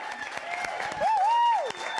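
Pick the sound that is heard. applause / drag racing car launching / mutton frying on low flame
applause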